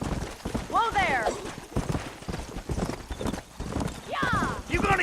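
Horses in the Red Dead Redemption video game, with hoof clip-clops and two rising whinnies close by, mixed with game noise and someone speaking.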